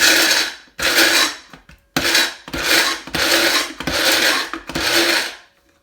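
A grinder pulses nuts and seeds for dukkah in six loud, gritty bursts about a second each, separated by brief silences.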